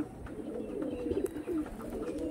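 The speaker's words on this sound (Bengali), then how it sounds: "খুব সুন্দর পায়রা।" Tournament-quality pigeons coo faintly in low, muffled rolling calls close by, with soft background noise throughout.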